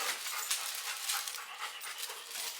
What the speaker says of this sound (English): It's been a while since I've watched these puppies